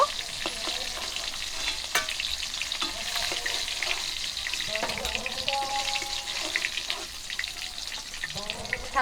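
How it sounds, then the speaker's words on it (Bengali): Hilsa fish pieces shallow-frying lightly in hot oil, a loud continuous crackling sizzle with occasional clinks and spatula scrapes close by, running steadily throughout without talk. "আর মাছগুলো কিন্তু আমি খুব বেশি একটা কড়া করে ভাজবো না একটু হালকা করে ভাজবো"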